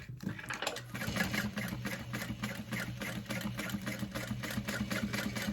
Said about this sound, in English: I'm gonna sew around in a U shape, just following the outside edge of that interfacing